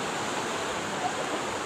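Floodwater from heavy rain rushes steadily through a street in Ghauri Town Phase 7, Islamabad, a dense, continuous roar of flowing water, loud and even with no talk.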